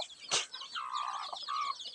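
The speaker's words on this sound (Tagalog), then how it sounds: "Ito po yung manok namin na bagong sisiw ngayon." A mother hen with newly hatched chicks gives a few short, close clucks, one sharp note followed by softer drawn-out calls.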